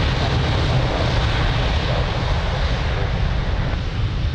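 Aircraft taking off from runway 02 at Lisbon Airport, a steady, loud engine roar with broadband rumble that holds for several seconds, close by and unbroken by talk.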